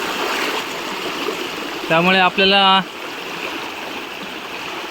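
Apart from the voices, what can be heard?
river water flowing strongly after rain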